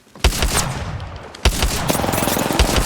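Automatic gunfire in a first-person shooter video game: two sharp onsets launch sustained rattling bursts of rapid shots, loud and close, with a brief lull between them.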